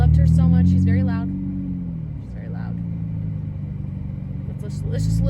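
A car engine idles with a deep, loud rumble while a person talks over it at the start and end.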